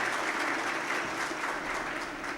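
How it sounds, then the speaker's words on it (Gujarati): An audience at a Patel community gathering bursts into sustained, dense applause, a steady even clapping from a large crowd filling the hall without pause. "જોરદાર તાળીથી વધાવીએ."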